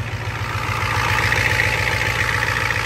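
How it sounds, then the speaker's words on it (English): Ford F250 with a 7.3 IDI diesel engine idling after a cold start, a steady close-up rumble with an even low clatter and no pauses. "Let it warm up for a while before I move it though."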